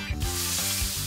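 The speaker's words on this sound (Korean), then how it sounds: "소금 간을 한 밀가루를 살짝 묻혀 기름에 튀기듯 구워주는데요" Flour-dusted catfish pieces seasoned with salt pan-frying in hot oil, a loud steady close sizzle with crackling that runs throughout, no voices.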